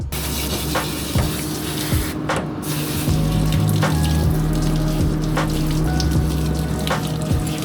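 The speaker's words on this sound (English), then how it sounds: "Onto her final rinse" Running water rinses a dog during a bath, a steady close spray and splash with small drips and thumps, continuing throughout.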